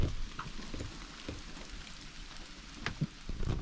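Steady rain falls outside a truck during a camping trip, a soft continuous patter with scattered louder drops and taps, heard from inside with no talking.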